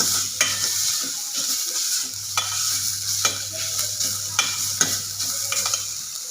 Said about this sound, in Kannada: ಈಗ ಇದಕ್ಕೆ ಫ್ರೆಶ್ ತೆಂಗಿನ ತುರಿನ ಆ್ಯಡ್ ಮಾಡ್ಕೊಳ್ತಾ ಇದ್ದೀನಿ ಚೆನ್ನಾಗಿ ಫ್ರೈ ಮಾಡ್ಕೊಳ್ಬೇಕು